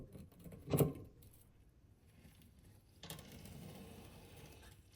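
A cassette hub tool tightens a SRAM cassette onto an XDR freehub, giving a sharp metallic clatter near one second followed by softer scraping and mechanical rattling.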